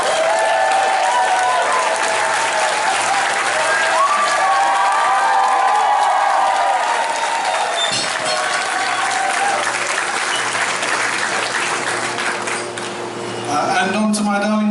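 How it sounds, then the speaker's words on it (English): Wedding guests applaud throughout, a dense steady roar of clapping from a large crowd that fills the room, with voices mixed in and a slight fade near the end. "I think a round of applause would be much more appropriate"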